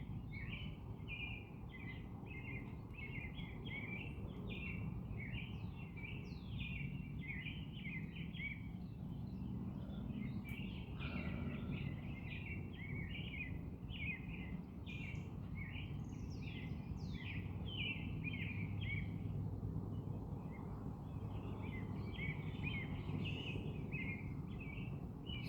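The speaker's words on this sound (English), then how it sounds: "Pretty birds." Small birds chirp and twitter around a backyard seed feeder in the Flint Hills, a steady stream of quick, high tweets from several birds over a soft outdoor background hum, fairly close and continuous.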